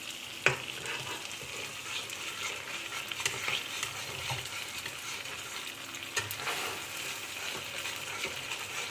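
Pointed gourd (potol) fries in a pan as yogurt is added, giving a close, steady sizzle with a crackling hiss. A spoon or spatula scrapes now and then while stirring, and no one talks.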